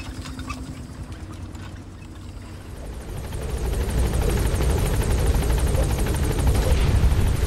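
Helicopter in Metal Gear Solid V: The Phantom Pain, its rotor chopping in a fast steady beat that swells from moderate to loud and close over a deep engine rumble.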